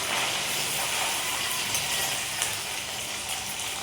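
Green chili and ginger-garlic paste frying in a pan, a steady close hiss of sizzling that stays even and fairly loud with no pauses.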